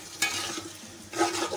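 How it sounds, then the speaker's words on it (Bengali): Soaked pulao rice being stirred and fried in a pan, giving a short burst of close scraping and soft sizzling with no talk. "দিয়ে ভালো করে নেড়ে চেড়ে একটু ভাজা ভাজা করে নিব"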